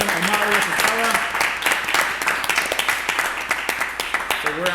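An audience claps briskly and steadily, with individual claps audible and voices speaking over the applause throughout.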